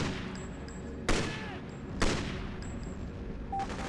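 Sniper rifle fire in the video game Freedom Fighters: two sharp, loud shots about a second apart ring out over a dense background of game noise and faint music.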